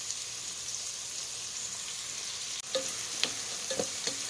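Bacon frying in a pan for minestrone soup gives a soft, steady sizzle, then sharper crackles and pops from about halfway, close by with no talking.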